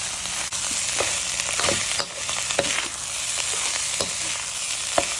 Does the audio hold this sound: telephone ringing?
no